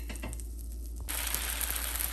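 Akki rotti dough laid on a hot buttered tawa, breaking into a steady broad sizzle partway through that continues loudly to the end.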